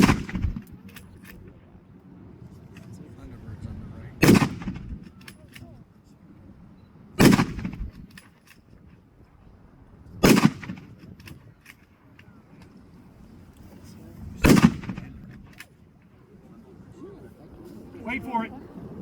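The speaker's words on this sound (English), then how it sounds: "Mark will demonstrate the M1917 30-06." An M1917 rifle fires .30-06 rounds at a public military history demonstration at Cheyenne air force base. Four loud, sharp reports sound at slow, uneven intervals, and murmuring voices and low background noise fill the gaps between them.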